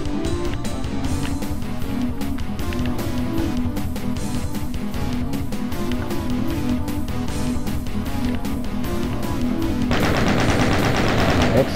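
Rapid gunfire and explosions from the 1993 video game DOOM, a relentless stream of loud, closely spaced shots over game music, ending in a brief, harsher burst of noise.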